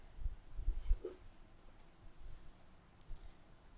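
A computer mouse gives a few faint, isolated clicks while navigating Mailchimp's audience pages on a desktop, with quiet room tone between them.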